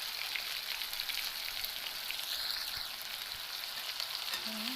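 Whole cumin seeds sizzle in hot oil, a steady dense crackle and hiss filling the whole stretch at moderate, close level with no pauses, while preparing a drumstick flower fry.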